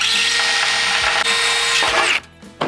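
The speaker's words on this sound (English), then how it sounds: "when we drill through, if the drill bit pokes through" A power drill bores through a fiberglass truck hood on a 1992-96 Ford Bronco or F-series pickup, running loud and close in a steady whine for about two seconds before stopping abruptly, with no talk.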